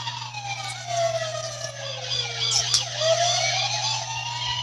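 A toy police siren wails continuously with a rising and falling electronic tone, steady and close, over a constant low hum.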